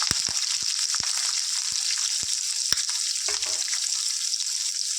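Two medium onions and four green chillies sizzle and crackle steadily in hot oil, close and loud, with a dense hiss and scattered sharp pops, a brief utensil clink midway.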